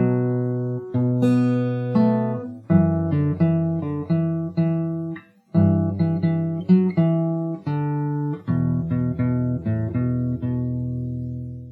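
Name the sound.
guitar playing the opening of a song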